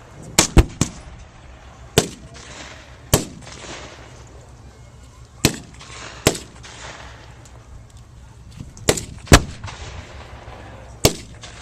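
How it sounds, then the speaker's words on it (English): Artillery fire during a Marine assault on a bunker backed by a Sherman tank: sharp, distant booms and cracks scattered irregularly over about a dozen seconds, with several spaced single blasts and a few quick doubles, no voices. "Squad leader is calling in artillery support."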